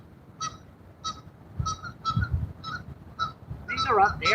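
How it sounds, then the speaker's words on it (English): Resident geese honk in a series of short, repeated calls from a short distance, rising into overlapping honks at the end, with a voice speaking underneath. "I hear them geese."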